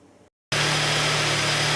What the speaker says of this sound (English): I'm just letting the car warm up